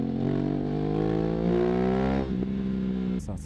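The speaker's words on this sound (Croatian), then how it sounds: "Aprilia RS 660 Extrema. Stvarno je fenomenalan motor." Aprilia RS 660 Extrema motorcycle engine held at a loud, steady high rev close by, its tone climbing slightly before dropping off near the end.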